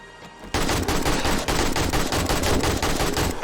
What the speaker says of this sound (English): The AK comes out, and it ran out of ammo a lot faster than I expected for a single magazine